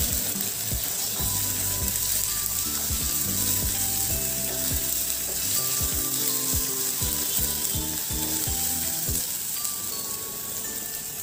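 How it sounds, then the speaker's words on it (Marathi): Ginger garlic paste sautés in hot oil, with a constant sizzle under repeated clicks and taps of a spoon scraping the pan in an uneven rhythm, moderately quiet and close, and no one speaking. "आता मी यामध्ये 1 चमचा आलं लसूण पेस्ट घालते, ती सुद्धा आपण छान परतून घेणार आहोत."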